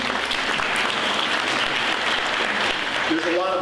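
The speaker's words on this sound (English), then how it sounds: "You might want to hold the applause" Graduation ceremony audience applauding, a dense, continuous roar of clapping that fills the hall, with a voice starting to speak over it near the end.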